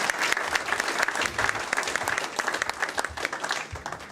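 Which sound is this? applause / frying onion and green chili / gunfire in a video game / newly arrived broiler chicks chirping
applause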